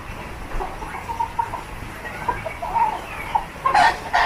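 Chickens clucking repeatedly on a farm beside banana plants, a chain of short close clucks over a breezy outdoor background, ending in a louder burst.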